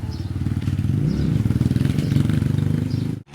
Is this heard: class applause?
no